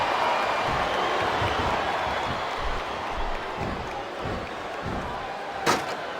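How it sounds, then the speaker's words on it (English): A large arena crowd roars and chants steadily throughout in the wrestling video game WWE SmackDown vs. Raw 2007, a dense wall of voices with rhythmic swells, capped by a sharp slam near the end. "Wow, listen to that chant, Taz."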